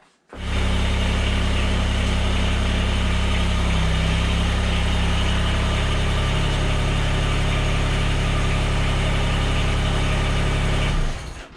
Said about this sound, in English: I'm just gonna back up my tractor and use the cable to retrieve it to put the box down